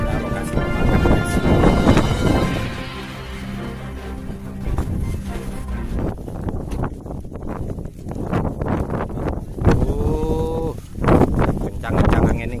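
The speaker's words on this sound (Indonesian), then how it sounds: "Kencang-kencang angin nih guys." Strong wind gusts roar across an open outdoor field under an overcast sky, buffeting the microphone in loud, uneven blasts, with a voice speaking over parts of it.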